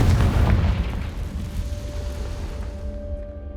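A Confringo spell explosion in the video game Hogwarts Legacy: a loud, close, low boom that rumbles at the start and then decays into a fading rumble and crackle, with no talking.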